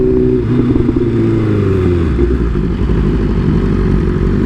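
Motorcycles idle and rev at a bikes and coffee gathering, giving a loud, continuous, rumbling engine drone with slight rises in pitch and no clear speech.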